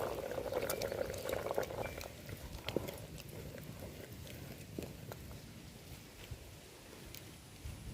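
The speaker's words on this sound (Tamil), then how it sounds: "தேங்காய் ஊற்றி குழம்பு நல்லா கொதிச்சிருச்சுங்க." Dry fish curry with ground coconut bubbling at a steady boil in a clay pot, a continuous close patter of popping bubbles with no one talking.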